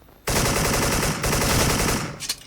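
Rapid bursts of AK74 automatic gunfire from a video game crackle loudly and continuously for about two seconds, then cut off abruptly.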